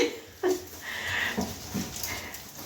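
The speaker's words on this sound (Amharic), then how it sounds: "ድምጻቸውን ራሱ ውሾች ቀርጫቸዋለሁ ማለት ነው" Several dogs at a house, a sharp bark near the start followed by scattered whimpers and yelps at moderate distance, irregular and fairly quiet, with no talking.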